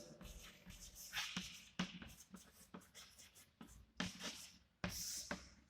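Writing out a logic expression during a digital electronics lecture, with quiet scratching strokes and taps in irregular bursts and occasional louder scrapes, and no speech.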